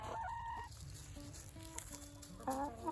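Chicken clucking close by in a garden, a few short vocal bursts at the start and again near the end over a steady background hum.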